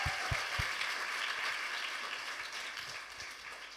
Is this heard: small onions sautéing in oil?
no